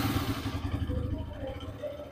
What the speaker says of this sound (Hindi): आइडल में आवाज़ सुन लीजिए